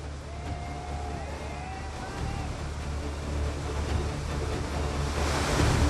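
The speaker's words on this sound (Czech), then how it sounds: "Jen stěží může kajakář vyváznout z této pasti rychle proudící vody." Fast-flowing river rapids rush in a constant loud roar that builds toward the end, with faint tonal whistles and a voice briefly heard early on.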